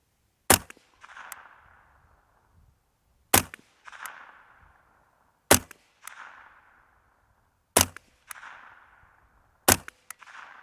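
A .22LR rifle fitted with a scope fires five sharp single shots at a target, evenly spaced a couple of seconds apart, each crack followed by a short ringing tail and quiet between.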